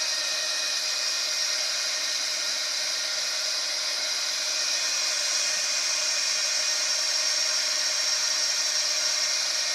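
A heat embossing tool runs continuously while crafts are embossed, a steady, loud whirring blower tone that holds unchanged throughout with no breaks.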